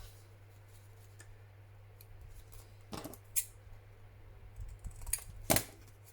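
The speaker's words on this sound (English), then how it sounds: "then we need to cut our tag corner" Scissors snip the corner off a paper tag made from collage sheets, giving a few faint, close clicks and cuts over a quiet hum.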